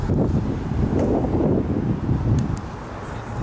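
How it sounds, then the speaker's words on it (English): Strong wind buffets the microphone at a pier, a steady loud low rumble with gusts that continue throughout, with faint water and distant engine sounds in the background and no speech. "it honestly is too windy to record this clip right here"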